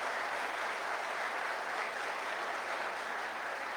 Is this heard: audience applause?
yes